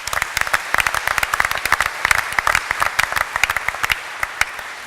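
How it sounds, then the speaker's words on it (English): An audience at an evening public event applauds Rose after remarks about helping people vulnerable during extreme heat, with crisp, closely packed claps rising and tapering toward the end, moderately loud and near. "A huge round of applause for you,"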